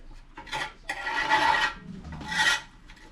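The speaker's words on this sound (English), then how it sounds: "Scrape the edge of the pot." A utensil scrapes around the edge of a pot of curry in three close, rasping strokes, separated by short pauses.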